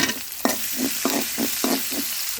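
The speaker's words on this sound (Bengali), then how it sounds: "এবার দিয়ে দিচ্ছি রসুন কুচিগুলো" Chopped garlic frying in a pan while boiler chicken curry with potatoes is being made, with a steady loud sizzle and a series of regular stirring scrapes, close by.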